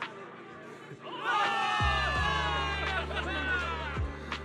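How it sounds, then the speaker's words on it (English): A crowd of soldiers in the Zenless Zone Zero video game erupts into a sustained cheer of many shouting voices, with a low rumbling swell and thuds underneath. "Give it up for yourselves, soldiers! Cheer for victory!"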